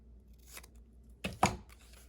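Paper being snipped for a bullet journal tab: two quick, close cuts in a row, crisp and short, with a faint rustle before them in an otherwise quiet room.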